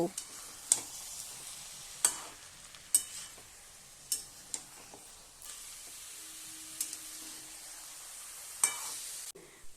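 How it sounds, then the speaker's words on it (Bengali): Cabbage cooks with spice paste over a high flame, a low sizzle broken by repeated sharp scrapes and clicks of a spoon against the pan at irregular intervals, close by, with no voices. "মশলার সঙ্গে কপি আমি প্রায় 5 মিনিট ধরে হাই ফ্লেমে ভালোভাবে কষিয়ে নিয়েছি"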